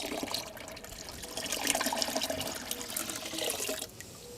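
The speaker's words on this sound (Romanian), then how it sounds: "torn peste cele 10 carafe de apă de fântână" Liquid fertilizer solution is poured from a carafe into a container of well water, giving a steady splashing, gurgling pour that swells midway and then eases to a softer trickle.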